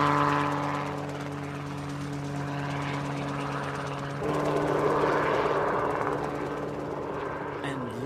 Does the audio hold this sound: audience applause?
no